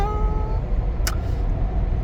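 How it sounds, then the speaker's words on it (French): Three cars approach on a desert road, heard as a steady broadband roar of engines and tyres that stays constant throughout, with a brief hiss partway through and no talk. "il y a 3 voitures qui arrivent là"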